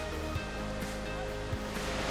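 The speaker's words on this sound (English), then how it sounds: "a clear cold spring that originates from a nearby glacier and surges through the ground and runs in rapids down into the river" Hraunfossar spring water in Iceland, fed from a nearby glacier, rushing through rapids into a river, a steady broad hiss and roar of moving water with no pauses, close and even.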